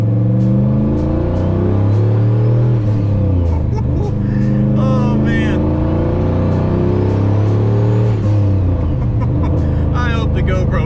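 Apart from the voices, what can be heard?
turbocharged swapped 1999 Ford Ranger engine revving on dyno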